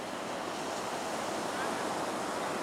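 Ocean surf breaking on the beach at Mavericks on a hazy big-wave day, a continuous loud wash of crashing waves and hiss with wind buffeting the microphone, no voices.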